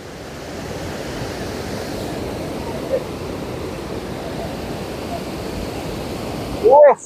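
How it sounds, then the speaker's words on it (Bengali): Water rushes steadily at Bhatinda Falls, a broad continuous roar of falling water that holds at an even level, with a brief louder burst near the end. "ও জলের বহাও দেখো ভাই।"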